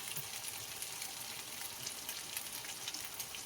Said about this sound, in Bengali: আদা রসুনটা ভালো করে কষিয়ে নেব।